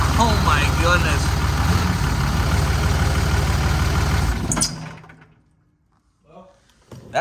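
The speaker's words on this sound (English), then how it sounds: "That sounds aggressive under here when you shut it off. Like the old Cummins shut off deal" A Dodge Ram's Cummins diesel engine idles with a heavy, rhythmic rumble, then shuts off abruptly and leaves near silence with a few faint stray sounds afterward.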